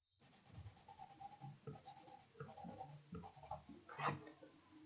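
A colored pencil shades across paper in soft, close scratching strokes, repeated back and forth at a steady rhythm, faint and without talk.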